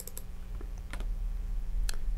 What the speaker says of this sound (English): you can just hit escape key on your keyboard